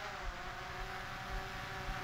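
A steady buzzing drone with whining propeller tones, constant and fairly close as the drone descends toward the microphone, with no voices.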